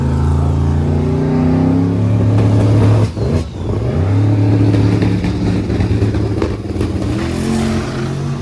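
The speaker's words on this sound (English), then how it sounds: "Tom Bailey is up to make another pass" Drag racing car at a drag week event accelerating hard down the strip, a loud, continuous roaring engine with rising revs, a brief dip mid-run, then pulling strongly again close by.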